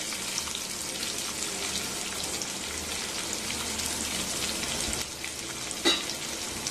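Chopped onion and curry leaves sizzle and roast in a pan for a mutton fry, a dense continuous crackle like steady rain with one small clink near the end.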